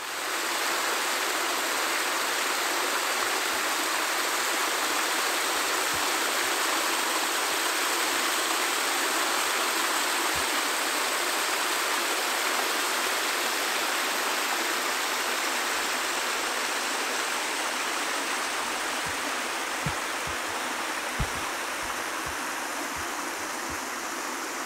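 A clear forest stream on a hill ridge walk flows steadily nearby, an unbroken rushing and babbling wash that continues for the whole span with no voices.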